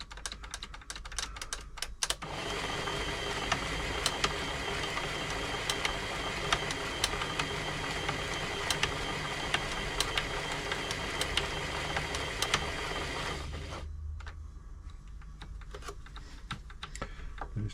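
An Elna 3007 sewing machine runs steadily with a fast, continuous mechanical clatter while its reverse mechanism is worked in with oil, stopping abruptly near the end and leaving scattered light knocks.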